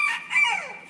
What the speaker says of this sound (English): The rooster, sorry about that.